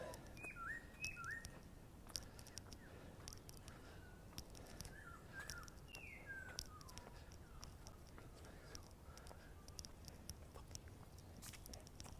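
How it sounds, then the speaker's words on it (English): A bird on a mountain hike trail gives thin, faint whistled calls, a few short chirps early and again midway, set against steady wind and chewing or rustling noise close by. "I couldn't even see the bird. I could hear him."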